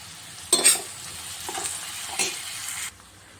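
Onions fry in a pan with curry leaves, turmeric and salt for a prawn masala curry, stirred in a few quick scraping bursts over a steady close sizzle that stops abruptly.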